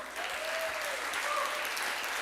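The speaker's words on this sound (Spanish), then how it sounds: "démosle un fuerte aplauso a los papás" A church congregation gives fathers a round of applause at a Father's Day service. The clapping is steady and continuous and sounds moderately distant throughout.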